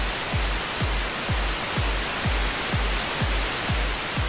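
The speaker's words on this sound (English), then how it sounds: "let me turn this pink noise thing off. That's pink noise plugin." Steady broadband pink noise from a mixing plugin fills the whole stretch at an even, loud level, with a low kick drum thumping regularly about twice a second underneath.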